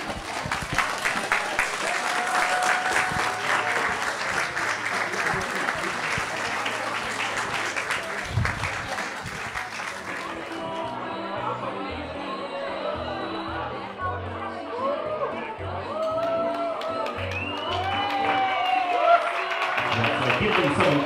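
Wedding guests at a reception applaud after a toast to the couple, a sustained wash of clapping that thins into chatter, voices and murmuring crowd noise.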